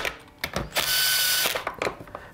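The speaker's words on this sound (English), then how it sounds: "Now I'm just going to start the screws with my impact" An impact driver starting screws on the cover of a cut-off saw: a short loud whirring burst with ratcheting clicks, framed by brief mechanical taps, close up and with no talking.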